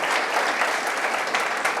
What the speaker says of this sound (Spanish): démosle un aplauso al Señor por la iniciativa del hermano, de la hermana